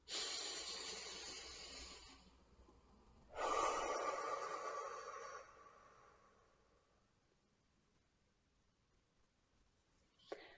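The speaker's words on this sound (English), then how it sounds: "Deep breath." A slow, deep breath drawn in and let out during a calming practice, with two long airy swells of breathing, a brief pause, then a quiet tail and a small click at the end.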